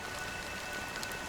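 Steady hiss of rain falling on a surface in a Honkai: Star Rail cutscene, a soft, continuous drizzle of black rain over the sea with no talk or other clear sounds over it.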